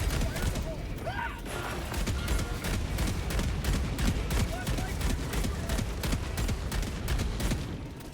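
Rapid, continuous gunfire from two guns at once in the video game Helldivers, a dense rattling fusillade filling the whole stretch at steady loudness, with a voice briefly heard underneath.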